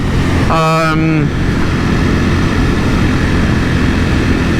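A 2021 Ducati Panigale V4S with a quick shifter revs up and shifts through the gears in quick, rising pulls, then settles into a steady engine drone under heavy wind rush, heard from the rider's position.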